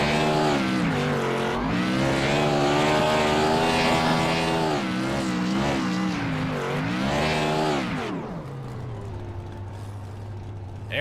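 Race car on an oval's front stretch doing burnouts at Rockingham: a loud, close engine rises and falls in pitch across repeated revs, then drops to a lower steady drone.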